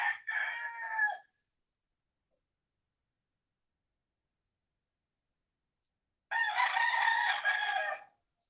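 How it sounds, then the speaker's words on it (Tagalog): Two loud native chicken rooster crows close by, one short at the start and a longer one after several seconds of silence. "Marami dito native na manok."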